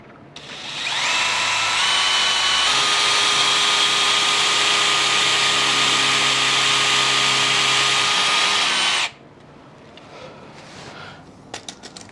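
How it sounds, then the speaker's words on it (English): A power drill drives a structural screw countersunk into a 2x4 while a basement is being finished. A loud, steady whine holds for about eight seconds and then cuts off, leaving faint room noise and a few small knocks. "we're gonna countersink a screw right in between these two"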